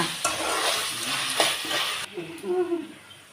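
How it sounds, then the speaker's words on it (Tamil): Onions sautéing in a pan in a home kitchen, with a busy sizzle and scraping stirs near and moderately loud, then quieter bubbling as a voice murmurs faintly in the background. "வெங்காயம் வதங்கிடுச்சு."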